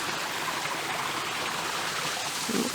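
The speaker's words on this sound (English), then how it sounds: "It looks like there's a waterfall." A small waterfall stream on a nature reserve trail, a steady soft rushing and splashing of flowing water, faint and continuous with no voices.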